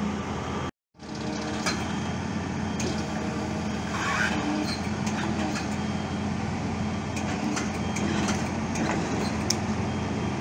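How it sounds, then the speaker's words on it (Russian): A huge Dodge Ram pickup truck with a large-displacement engine rumbles steadily and close, a constant low drone with a brief dropout near the start and faint clicks over it. "Огромный Dodge Ram. По звуку, по объему двигателя, по размеру это какой-то просто мини-трактор."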